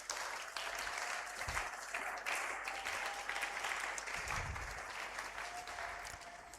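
A church congregation applauds steadily during a sermon, with a dense, sustained wash of many hands clapping that stays even throughout and picks up a few louder claps.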